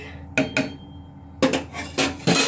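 A pressure cooker whistle weight is fitted onto the lid. Several sharp metallic clinks and knocks sound close by in short bursts, with a pause between them.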